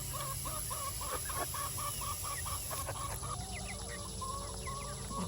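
A mixed flock of chickens and other fowl cluck steadily and busily nearby, with repeated overlapping calls and an occasional rooster-like crow amid constant outdoor background noise.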